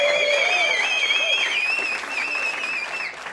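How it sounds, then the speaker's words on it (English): Live comedy podcast audience at The Comedy Store applauding in a steady burst, with sustained high tonal whistles or ringing over the clapping, easing slightly softer in the final second. "have a round of applause"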